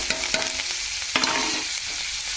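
Tempering of curry leaves, green chilies and onions frying in a pan, a steady close sizzle with scraping stirs and a few sharper clatters of the spoon, no voices.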